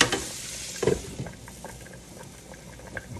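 Onions and T-bone steak bones brown in a hot pan with a low, steady sizzle, broken by a few soft knocks and stirring sounds; no voices.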